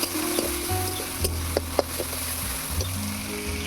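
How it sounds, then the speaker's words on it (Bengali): Chopped onion and garlic paste sizzle steadily in hot oil for a Bengali kakrol and prawn curry, a continuous close fry with a few soft stirring clicks and low kitchen hum, no talk. "পেঁয়াজ রসুনটাকে লাল লাল করে ভেজে নেব।"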